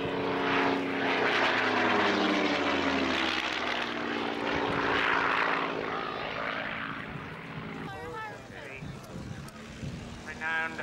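Propeller aircraft powered by a Rolls-Royce Merlin engine flying at an air show, a loud droning engine roar with harmonic tones that shift as it passes, then fades while a voice talks near the end.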